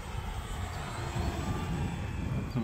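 A radio-controlled airplane passes at just under half throttle, its engine a steady moderate drone that swells slightly as it goes by, heard outdoors with no talking.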